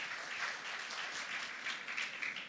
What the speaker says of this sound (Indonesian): sekali lagi beri tepuk tangan buat Tuhan